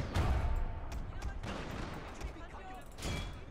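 Cannon fire booms in a large Shogun 2 Total War battle, several broad, rumbling blasts landing close together amid the din of combat, with a voice talking over it.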